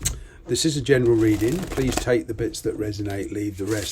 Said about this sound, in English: The noise you can hear is me shuffling